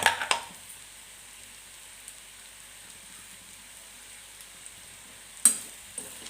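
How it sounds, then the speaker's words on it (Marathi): Potato shira, a sweet dish sweetened with jaggery, sautéed in a pan, giving a faint steady sizzle with brief louder scrapes of stirring near the start and again toward the end. "परत एकदा चांगलं परतून घेते"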